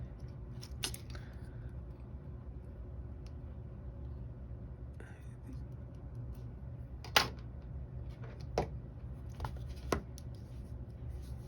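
Wire cutters snip wires on a Porter 0-4-0 steam locomotive model during a DCC sound conversion. There are a few sharp, isolated clicks over a low, steady background hum, close and fairly faint.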